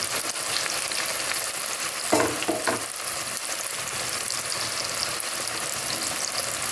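Chopped onions fry in coconut oil for chicken chukka, a dense, even sizzle close by, with a brief stirring clatter partway through.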